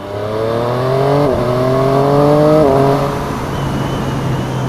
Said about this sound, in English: I love the quick shifter, which is standard as well.